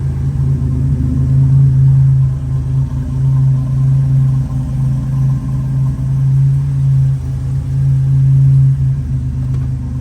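A turbocharged Buick Grand National, an original 32,000-mile car left abandoned, idles after a cold start with a steady, loud low rumble and slight pulsing throughout, no voices.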